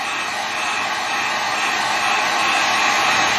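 A hot air rework tool blows steadily onto a circuit board being warmed before work, giving a continuous loud broadband whoosh like a powerful hair dryer, with no talk over it.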